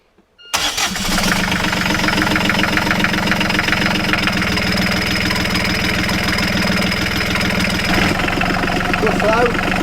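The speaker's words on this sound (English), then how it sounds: "Right, Cindy, can you start the engine?" A marine diesel engine cranks and fires after a brief silence, then settles into a loud, steady knocking idle that runs to the end, with faint voices in the background.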